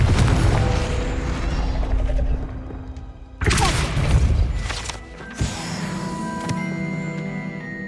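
Confringo spell blasts in Hogwarts Legacy, with two sudden loud booming bursts that crash and rumble before decaying, over a constant background of game noise.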